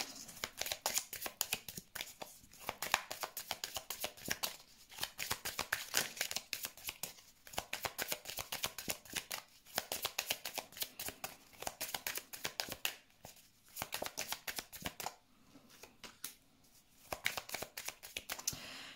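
Lenormand cards shuffled for a reading, repeated soft riffling bursts in steady rhythm, close and fairly quiet with brief pauses between rounds.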